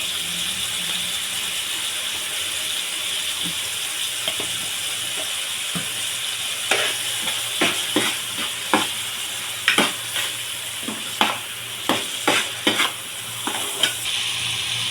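Tomatoes with salt fry in a pan for fish curry, a continuous close sizzle with a spoon stirring through it, sharp scraping strokes coming in quick irregular bursts during the second half.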